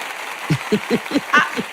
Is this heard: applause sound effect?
yes